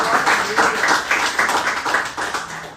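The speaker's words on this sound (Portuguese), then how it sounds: "diga glória a Deus e aplauda ao Senhor com o seu melhor" Church congregation applauding during a prayer service, a steady wash of clapping from many hands with rhythmic surges, moderately loud and continuous throughout.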